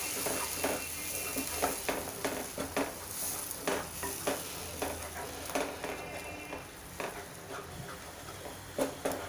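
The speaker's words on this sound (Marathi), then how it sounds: "आलं, लसूण, मिरचीची पेस्ट घालून घ्यायची आहे. छान हे मिक्स करून घ्यायचं आहे।" Ginger, garlic and chili paste with tomato being stirred into frying onions for a raw jackfruit dish, with soft sizzling under frequent spoon scrapes and light clinks against the pan, quiet and close throughout.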